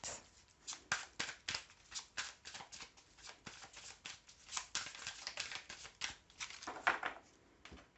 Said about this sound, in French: vous choisissez une carte pour votre réponse